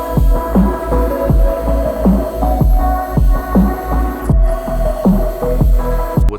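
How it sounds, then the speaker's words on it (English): An eraser wheel worked back and forth over a white powder coated wheel to lift stains, a steady humming motor drone with rhythmic pulsing surges roughly every half second, close by with no speech. "We're gonna come in with the eraser wheel and just work back and forth, and remove all these stains."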